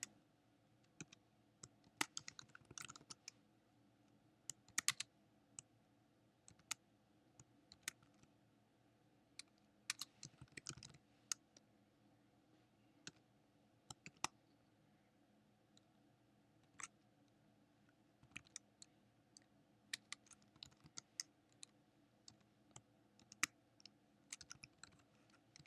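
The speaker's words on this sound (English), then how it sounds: "So right now I'm going to type in that code." Code typed on a computer keyboard at a desk, with quiet, irregular key clicks in short bursts and scattered single taps against a faint room hum, and no talking.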